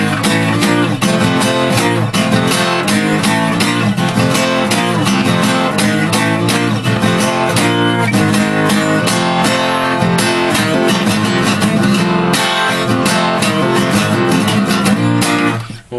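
Acoustic guitar playing the six-bar verse phrase of a song: a loud, continuous strummed and picked pattern with a steady driving rhythm, alone without talking.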